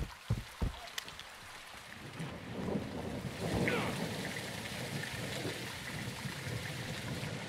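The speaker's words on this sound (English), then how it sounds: "It's raining fucking hard." Heavy rain pours steadily in Call of Duty: Modern Warfare 2, a dense, loud hiss that fills the whole clip, with low thunder-like rumbles and a few sharp knocks near the start.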